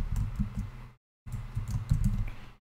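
Rapid clicking of computer keyboard keys while typing a data column name into a UiPath workflow, two short bursts of close, dry keystrokes separated by a brief pause.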